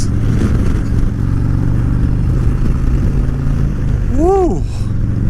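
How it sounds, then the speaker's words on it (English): Rumbling, revving exhaust of a 2017 Harley-Davidson Road King with a Milwaukee-Eight 107 engine and a Vance & Hines VO2 air cleaner, loud and close and held steady throughout, with a rising-and-falling whine sweeping past near the end. "this is my 2017 Road King with a Milwaukee-Eight 107"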